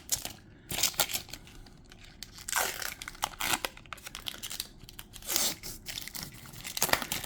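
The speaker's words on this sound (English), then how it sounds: "Go ahead and peel the plastic off that." Clear protective plastic film peeled off an acrylic figure standee, with crisp crinkling and tearing rustles in several bursts, close and fairly loud, no talking.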